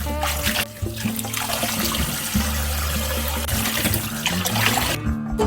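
Freshly picked mugwort is rinsed under a running kitchen tap, with a steady, loud rush of water and splashing throughout.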